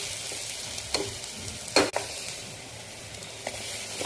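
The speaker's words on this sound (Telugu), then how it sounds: "turmeric 1/2 tea spoon, red chilli powder spoon, garam masala 1/2 tea spoon, 1 spoon ధనియా పౌడర్ వేసి పచ్చి వాసన పోయే వరకు వేగనివ్వాలి" Turmeric, red chilli powder, garam masala and coriander powder frying in a pan for a broad beans curry, a steady close sizzle with a few sharp stirring scrapes and clinks.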